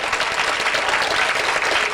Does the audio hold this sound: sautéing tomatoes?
no